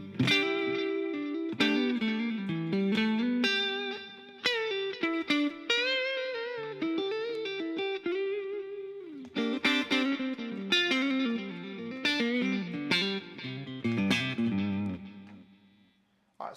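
An electric guitar played through a generic delay pedal with reverb added rings out in clean, sustained chords and melodic notes, with echoing repeats and a wash of reverb trailing each phrase, loud and close.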